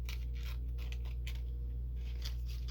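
Scissors snip through thin tissue paper in a few quick, light cuts over a steady low hum, close and soft.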